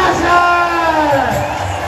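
A political rally crowd in Lahore cheering and whooping loudly and close for a moment, a dense roar of voices swelling and fading.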